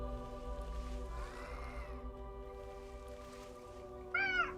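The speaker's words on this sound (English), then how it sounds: "Cat is having a fit again." A cat meows twice in a room, a short rising call near the end ringing clearly over a low steady hum, with fainter mewing earlier.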